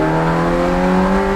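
A Ferrari 348 TS V8 engine drones loud and steady at high revs, a brief close-up burst of sustained engine roar with no voices over it.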